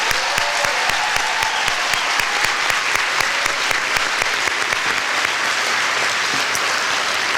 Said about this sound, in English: Please join me in applauding the hard work and dedication of our Norup staff.